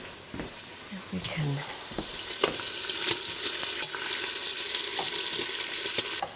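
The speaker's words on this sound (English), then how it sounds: "And our bacon is cooking up." Bacon cooking in a pot gives a steady background sizzle with occasional utensil taps and scrapes, while someone speaks briefly at the start.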